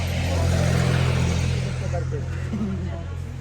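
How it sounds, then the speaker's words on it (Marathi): Large sleeper coach buses pulling in before dawn for a family pilgrimage trip, a loud, steady low engine rumble with idling drone close by, easing slightly toward the end. "गाड्या आलेत ते स्लीपर कोच"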